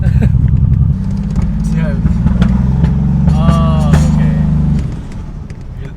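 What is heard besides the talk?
Toyota Supra engine revving, exhaust popping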